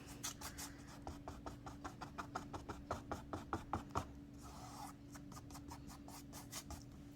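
A pencil traces a drawing over carbon paper in quick, rhythmic scratching strokes, close and quiet, with a short pause partway through.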